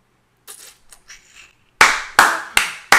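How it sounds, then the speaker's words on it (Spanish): Four sharp, separate claps in an even rhythm follow a few faint, scattered sounds, as a small group briefly applauds on cue during a Spanish-language comedy performance. "Un aplauso, por favor."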